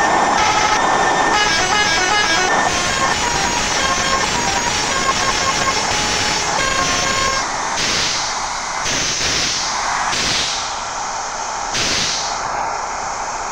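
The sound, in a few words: bus horn from a video game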